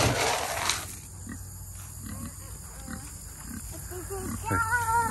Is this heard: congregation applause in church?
no